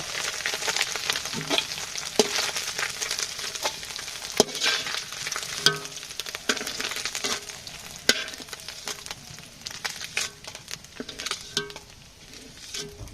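Onions sizzle and crackle steadily in a frying pan, with clinks and scrapes of stirring scattered throughout and no one talking.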